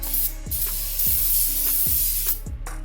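Cleaner is sprayed onto a new brake rotor during a brake job on a 2009 Toyota Camry, a continuous close hiss broken by repeated short pump pulses, with no talk.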